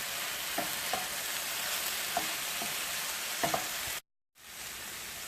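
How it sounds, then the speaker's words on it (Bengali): Turmeric powder being stirred into spices frying in a pan for spicy village-style kushli pitha, a dense steady sizzle with a few light scraping knocks from the spoon, close-up, then a brief silent gap. "এখন আমি 1 চা চামচ হলুদ গুঁড়া দিয়ে দেব, দিয়ে আবার খুব ভালো করে নাড়াচাড়া করতে হবে।"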